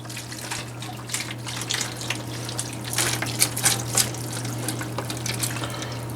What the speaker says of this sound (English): We're going to pour this beef stock